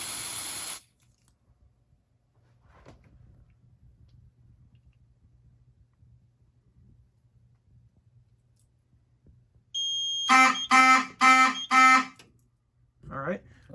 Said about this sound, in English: you can push up around the edge of the detector, and it will spray smoke in an enclosed space